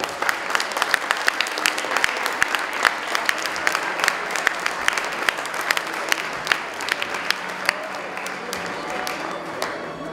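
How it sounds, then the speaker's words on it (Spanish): Sustained applause from a sizeable audience at a graduation ceremony, dense steady clapping throughout with a few louder claps standing out, no talking over it. "los presentes, brindamos un fuerte aplauso."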